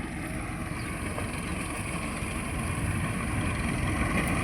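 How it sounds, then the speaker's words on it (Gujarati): A tractor engine pulling a 9-foot bajra harvesting machine through wet summer farm soil, a steady low drone and chug that holds at a constant level throughout, with no talk. "ટ્રેક્ટરનો થોડો કેબી પણ અવાજ આવતો હશે"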